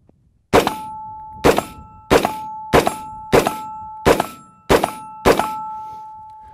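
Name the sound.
double barrel AR rifle shots hitting steel targets downrange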